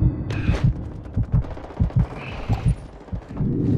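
Video game shooter gunfire: rapid bursts of close automatic weapon fire, loud and punchy, repeating in uneven volleys with short gaps between them.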